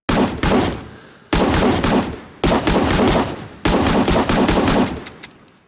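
Four loud, close rifle shots in the video game Rising Storm Vietnam, each a sharp crack with a ringing tail, spaced roughly a second apart, with a faint click at the end.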